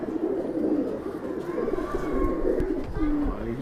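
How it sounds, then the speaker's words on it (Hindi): A Madrasi pigeon coos softly nearby in low, repeated throaty phrases, with faint background voices and rustling around it. "ये अभी बाजी में उड़ा है कबूतर।"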